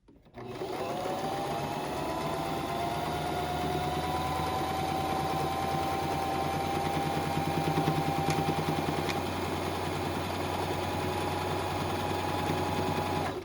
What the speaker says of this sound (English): we're going to stitch until we get to this mark.